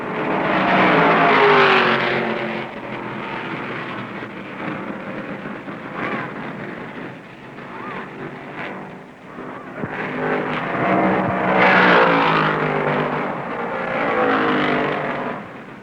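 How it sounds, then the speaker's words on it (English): Stock cars from the 1969 Daytona 500 roar past in a continuous loud rush, the Ford and Dodge engines swelling and fading as the pack comes out of the fourth turn onto the tri-oval, with a rumbling, stormy texture throughout. "Out of the 4th turn onto the tri-oval, LeeRoy drops down low and passes Allison to take the lead"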